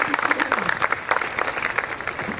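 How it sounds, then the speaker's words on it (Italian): Audience applause at a summer fashion show event, steady rhythmic clapping from a seated crowd with a voice talking over it. "desidero salutarlo con un applauso e chiedo a voi il contributo a questo applauso"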